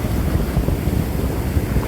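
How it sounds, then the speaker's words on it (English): High waves crash and splash onto a beach in a loud, constant roar, mixed with heavy wind buffeting the microphone close up. "The waves are splashing very high."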